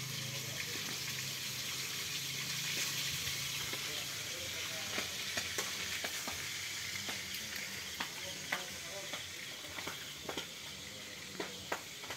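Fish frying in hot oil, giving a steady broadband sizzle throughout with scattered sharp pops and spits growing more frequent toward the end, fairly close.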